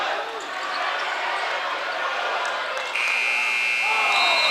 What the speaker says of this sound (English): And not able to get it at the buzzer.